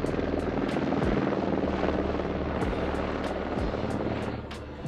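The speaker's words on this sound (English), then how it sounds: "So above us is the first rescue helicopter we've seen so far on the trip." A rescue helicopter passes overhead on a trekking route toward Everest Base Camp in Nepal, its rotor drone steady and loud throughout with periodic blade thumps, no talking over it.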